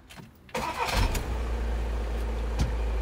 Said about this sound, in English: oh, I need to start the engine again